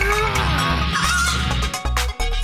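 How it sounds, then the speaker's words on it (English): A cartoon chicken in a children's monster-truck animation clucks and squawks loudly and continuously, with a brief stuttering break near the end. "That's not a turkey, Boom Boom. Huh? It's a chicken."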